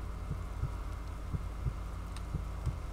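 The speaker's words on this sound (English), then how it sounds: "Why is my heart beating?" A steady, rhythmic heartbeat from a video game thumps in paired low beats about every third of a second, repeating evenly beneath a constant ambient hum.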